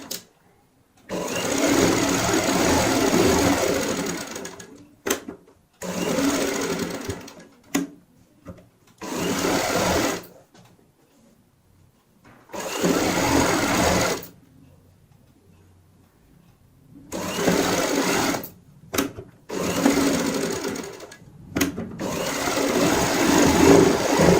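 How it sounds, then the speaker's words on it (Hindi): Sewing machine stitching chenille pieces for a red rose cushion, running in loud, close bursts of steady whirring and rapid ticking, separated by short quiet pauses, with no talking over it. "यहाँ पे सिलाई लगाएंगे"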